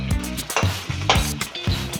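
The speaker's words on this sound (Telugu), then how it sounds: "బెండకాయలు కట్ చేసుకున్నాం కదా, ఈ నూనెలో వేసుకొని కొద్దిగా వేపుకోవాలి" Sliced okra frying in about two spoons of hot oil, stirred in a quick repeating rhythm of scraping strokes over a continuous close sizzle.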